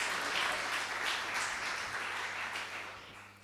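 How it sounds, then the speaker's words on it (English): An audience gives a round of applause, a dense spread of many hands clapping together that stays steady and then slowly tapers off near the end. "would you please welcome Kirsty and give her a round of applause"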